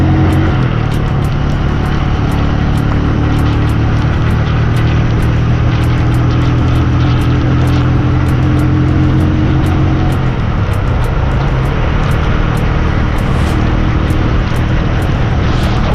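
A vehicle drives slowly along a slippery, rain-wet road, its engine a loud, steady drone close by, with regular rapid ticking pulses layered over it and no voices.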